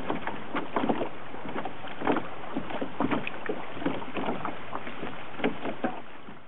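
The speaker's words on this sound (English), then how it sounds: "We're going to try to get in the canoe and see if we can" A canoe moving across the water during a wilderness survival trip, with rhythmic splashing paddle strokes about every half second over a steady background wash of water and wind.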